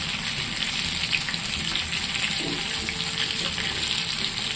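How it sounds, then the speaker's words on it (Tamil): Prawns coated for crispy Prawn 65 deep-fry in hot oil, a loud continuous close-up sizzle and crackle holding steady throughout with no talking. "ரெண்டாவது சைடு ரால் நல்லா பொரிஞ்சிருச்சு திருப்பி விட்டுருவோம்"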